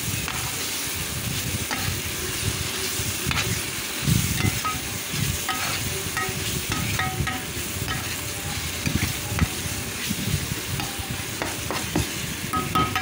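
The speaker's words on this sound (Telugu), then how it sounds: "ఇప్పుడు ఈ అల్లం వెల్లుల్లి పేస్ట్ బాగా మగ్గే విధంగా, అంటే పచ్చివాసన పోయే వరకు కూడా మనం ఫ్రై చేసుకోవాలండి." Ginger garlic paste frying and being stirred in a pan for a tomato chicken curry, with a steady sizzle throughout and repeated scraping strokes of a spoon, loud and close, with no talking.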